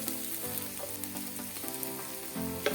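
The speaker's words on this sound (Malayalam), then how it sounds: "ഇനി നമുക്കിതിലേക്ക് മുളക് പൊടി ഇട്ടെടുക്കാം." Chili powder fries in a pan, making a steady soft sizzle with faint stirring scrapes, quiet and unbroken by speech.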